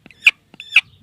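An angry hen gives two sharp, close clucks about half a second apart while her eggs are gathered, followed by a faint low rustle.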